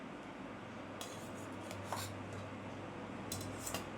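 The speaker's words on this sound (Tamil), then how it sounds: "சாப்பாடை அப்படியே 2 கரண்டி தட்டில் போட்டுடலாம்." Freshly cooked, steaming rice is ladled onto a plate in a home kitchen. A few faint metallic clinks and soft scrapes of the ladle against the dish sound over a quiet room.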